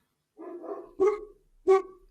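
A dog gives three barks close by: one drawn-out woof, then two short sharp ones, with quiet gaps between them.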